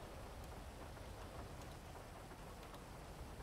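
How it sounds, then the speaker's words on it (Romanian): Rain falls outdoors during a rainy wedding-preparation roleplay in GTA 5, a steady faint hiss of drops on surfaces with no talk. "după cum vedeți, plouă și n-avem ce face decât să îndurăm ploaia asta"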